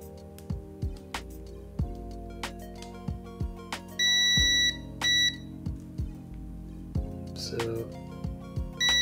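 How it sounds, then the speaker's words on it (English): A continuity tester beeps during a Nintendo DS Lite repair, giving short clear tones in two brief bursts amid repeated clicking and tapping of probes, with a voice talking nearby. "So I've got me a continuity tester, so you will hear the beeps like that"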